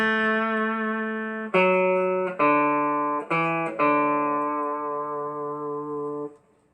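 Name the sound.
guitar playing phrase of a tune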